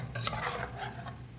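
A spoon scrapes and stirs coconut curry in a cooking pot, soft repeated rubbing strokes at close range with no voices.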